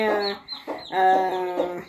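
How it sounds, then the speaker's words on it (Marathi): A DP cross hen, a large crossbred chicken rather than a local village bird, gives a few close, clear clucks in short bursts with pauses between them. "ही कोंबडी आहे ना डीपी क्रॉसमधली कोंबडी आहे बरं का"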